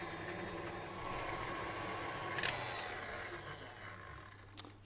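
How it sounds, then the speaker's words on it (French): An electric mixer fitted with a dough hook kneads dough, producing a faint, steady motor hum with a low drone and a couple of brief clanks. "Et on va pétrir donc tous ces ingrédients au crochet."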